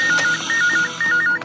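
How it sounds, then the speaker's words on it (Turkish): A phone rings nearby with a repeating electronic ringtone in short beeping bursts and brief gaps. "telefonu burada bir yerde çalıyor"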